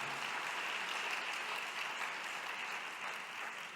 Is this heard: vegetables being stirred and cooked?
no